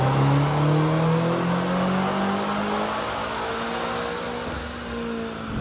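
A Land Rover Defender Octa running 93-octane fuel with some ethanol revs hard on a dyno, giving a loud, steady engine roar with a slowly rising pitch and no talk.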